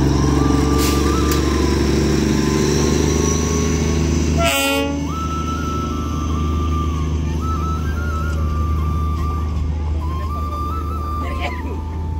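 A small Darjeeling toy train rumbles steadily past nearby, its whistle sounding in long tones over the continuous clatter of the wheels.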